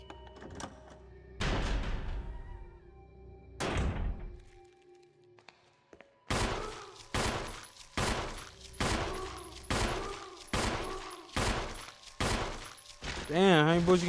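Gunfire in a Resident Evil video game: a rapid series of loud, evenly spaced shots in the second half, after a few earlier heavy thumps and a brief quieter stretch.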